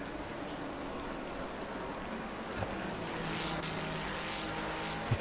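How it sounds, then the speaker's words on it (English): Rain at Donington Park race circuit, a steady even hiss of heavy rainfall at moderate level with a couple of faint knocks. "Donington Park is notorious for its weather, and I can report, folks,"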